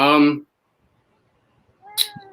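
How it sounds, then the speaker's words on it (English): A cat meows twice, a clear drawn-out call at the start and a shorter, higher meow after a silent pause near the end. "Oh, what a beautiful cat."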